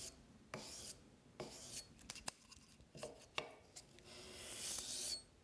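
A century-old axe blade is rubbed back and forth on abrasive grit paper folded around a backing, giving close, dry rasping strokes in irregular bursts with short pauses between them.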